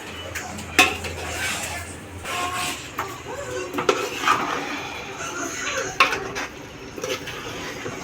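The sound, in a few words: mixing chicken pieces with masala in a pot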